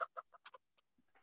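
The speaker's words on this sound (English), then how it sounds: "I hear a chicken." A chicken clucks in a quick run of five or six short, close bursts, then trails off into a few fainter sounds.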